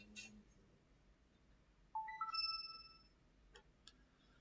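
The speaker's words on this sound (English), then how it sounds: "It's my phone. I forgot to mute it." A phone notification chimes in a quiet room, a short rising series of clean electronic tones followed by a couple of soft clicks.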